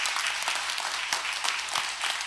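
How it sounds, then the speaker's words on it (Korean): A church congregation gives sustained applause during a Sunday service in a packed, reverberant sanctuary, a dense steady wash of clapping that fills the room. "우리 하나님께 영광의 박수 한번 올려드리겠습니다"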